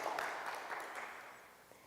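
Audience applause for elementary school award winners at a school oratorical competition, steady, moderately faint clapping from a crowd sustained throughout without talk.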